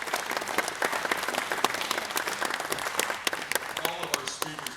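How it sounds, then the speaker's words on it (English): Audience applause at a rural Missouri economic and development forum, a steady dense clapping that fills the whole stretch at moderate loudness, with a few louder individual claps standing out near the end. "Let's give them another round of applause."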